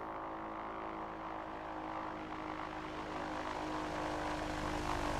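A propeller aircraft in the X-Plane 11 flight simulator practicing crosswind landings, its engine a steady droning buzz with a rapid pulsing throb, holding constant and growing slightly louder toward the end, with no voices.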